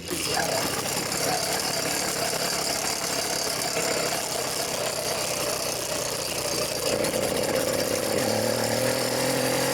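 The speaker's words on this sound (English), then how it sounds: "Throttling it a couple of times. Got the choke on. Drop the clutch." A 100cc motorbike engine with the choke on runs loud and steady close by, revving as it is throttled, a rough continuous mechanical drone with a shift in pitch near the end.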